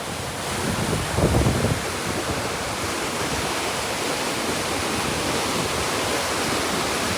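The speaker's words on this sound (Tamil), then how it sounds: "தண்ணி போகிற ஸ்பீட்டாக பாருங்கள்" Loud, steady rush of fast-flowing river water in a Sri Lankan village during rainy weather, a continuous broadband roar with a brief louder surge early on.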